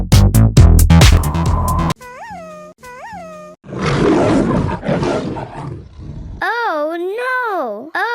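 Roar from an animal toy imitating a tiger, loud and close, preceded by a dense burst of toy music and followed by a child-like voice.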